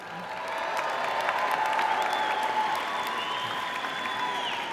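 Convocation audience cheering and applauding for graduates, a steady wash of clapping mixed with whistles and shouts that holds strong throughout and eases slightly toward the end.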